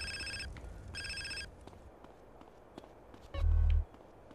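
Two bursts of a telephone ringing in GTA San Andreas, each with a bright repeated electronic trill, then a short low thump. Faint game background and footsteps sit in between.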